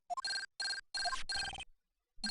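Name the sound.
transceiver ringing in video game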